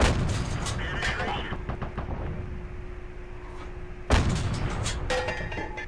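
StuG III Ausf. B assault gun's 7.5 cm cannon in a video game, a heavy boom cutting in sharply midway after a stretch of distant gunfire and rumbling engine noise.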